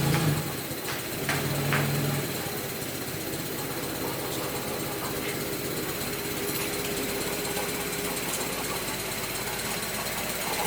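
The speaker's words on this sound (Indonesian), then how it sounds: "Tapi suara mesin jadi halus" A Honda Civic EF with a swapped K24 engine idles steadily and evenly, a continuous mechanical rumble with a faint rattling knock, unbroken for the whole stretch.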